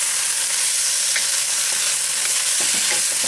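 A pineapple, vegetable and chicken stir-fry is being tossed together in a hot pan, with a continuous bright sizzle and occasional scraping and stirring clatter, loud and close with no talking.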